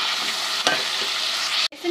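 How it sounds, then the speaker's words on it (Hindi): Chicken frying in a pan with garlic ginger paste for biryani, a loud dense sizzle heard close up, briefly broken by a short clatter and a sharp dip near the end. "अब इसमें मैं डालूंगी 3 खाने के चम्मच लहसुन अदरक का पेस्ट, और इसको मज़ीद 2 मिनट मज़ीद फ्राई करूंगी मैं"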